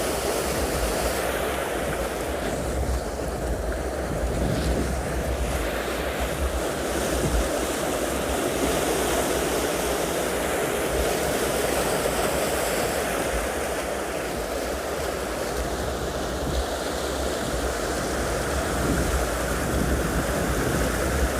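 Ocean waves roll steadily onto a penguin beach, washing over smooth tumbled boulders in a continuous loud surf wash with some wind rumble and no voices.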